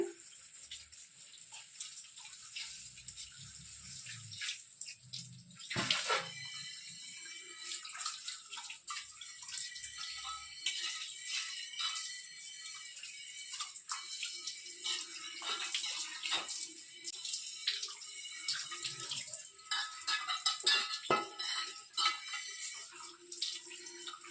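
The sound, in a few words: water running while washing a chapati pan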